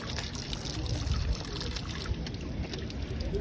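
Water runs steadily from a tap in a public spot, a continuous close splashing trickle with no voices over it.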